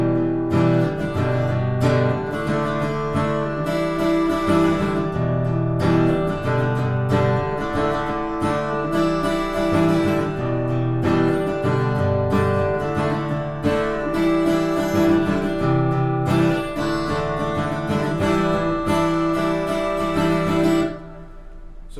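An acoustic guitar strumming the intro and verse of a song at full speed, a steady rhythmic strum pattern with ringing chords, close and loud, alone without talk, fading at the end.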